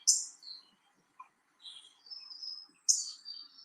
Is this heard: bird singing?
yes